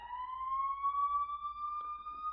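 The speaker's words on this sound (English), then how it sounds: "It's better if y'all hear these sirens" A police-style siren wails in one smooth, slowly rising tone, steady and clear over a quiet background, with a brief click near the end.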